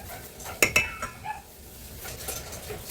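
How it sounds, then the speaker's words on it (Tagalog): A spoon clinks against a bowl while mashed lakatan banana is mixed with baking powder, baking soda and salt, giving a few sharp close clinks and then softer scraping, with no talking. "Mix lang natin yung lakatan, baking powder, baking soda, at saka asin."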